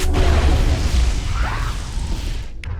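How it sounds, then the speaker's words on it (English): A detonation blast from the video game Mass Effect: a dense, loud burst of rumbling noise that fills the whole clip, with a low boom underneath and a fading tail near the end. "Let's get a little explosion on here if we can too."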